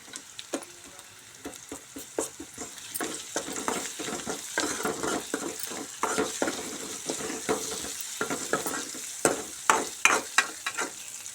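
Ginger and turmeric fry in a pan with a steady sizzle, broken up by frequent clinks and scrapes of a spoon stirring against the metal, close and clear with no voices.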